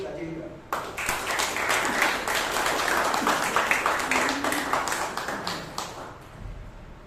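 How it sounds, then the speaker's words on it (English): Audience applause at a Toastmasters meeting in Bangalore, a burst of clapping that starts abruptly and holds steady, with faint voices in the room, then tapers off toward the end. "Can we have a huge round of applause for Toastmaster Amrit?"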